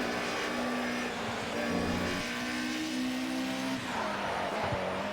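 Race car tires squealing in the video game Project CARS, a sustained screech with shifting engine tone running continuously for several seconds, loud and alone without talk.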